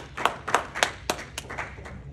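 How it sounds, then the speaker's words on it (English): Hand claps from a small group in a classroom, about seven or eight sharp claps at a fairly even pace over roughly two seconds, with no talking. "So clap, clap, clap."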